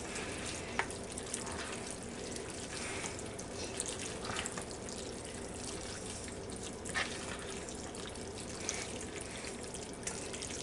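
Ground beef and pasta stirred in a pan with a spatula, giving a steady close sizzling and frying hiss with soft scraping and faint watery clinks throughout.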